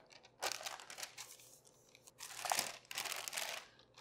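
Crinkly parchment paper rustling and crackling in a few bursts as it is peeled away from rolled-out dough, close and fairly quiet, with no talking.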